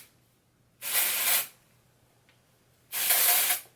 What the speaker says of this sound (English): So I'm just going to go in with my dry shampoo and just spritz that around.